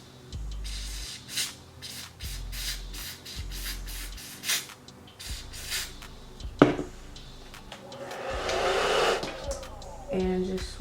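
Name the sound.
blow dryer drying hair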